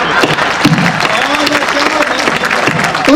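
Audience applause at a kavi sammelan poetry gathering, a short burst of lively, close clapping from a crowd, continuous and fairly loud throughout.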